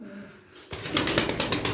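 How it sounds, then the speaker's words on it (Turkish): A pigeon bursts into flight with a sudden rapid, rhythmic flapping of wings close by, loud after a brief quiet start. "Kanat sesi falan efsane."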